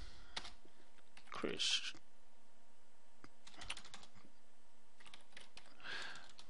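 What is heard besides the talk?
typing a Linux command on a computer keyboard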